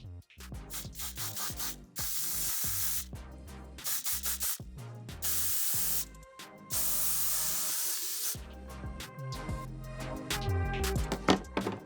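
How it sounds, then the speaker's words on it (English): Repeated bursts of Oribe Superfine Strong Hairspray hiss loudly, several long sprays separated by short pauses and clicks, close to the microphone. "Time to go in with the Oribe Superfine Strong Hairspray."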